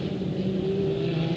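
A 1987 USAC midget race car roars past, its engine drone steady and loud with a slight pitch rise as it passes, another car close behind in the blur of motor noise.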